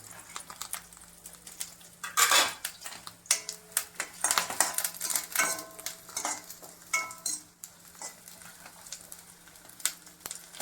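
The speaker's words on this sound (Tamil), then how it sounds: "எண்ணெய் சூடாயிருச்சு இப்போ வெங்காயத்தை போட்டுடலாம் அடுத்து கருவேப்பிலை" Onions and curry leaves fry in hot oil for mutton chukka, a steady close sizzle broken by repeated scraping and clinking of a stirring spoon against the pan.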